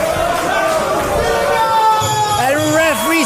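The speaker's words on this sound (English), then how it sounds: "The crowd is absolutely electric." A pro wrestling crowd roars and cheers steadily at an SPW international showcase match between Zack Sabre Jr. and Aiden Rex, with a voice speaking over the din near the end.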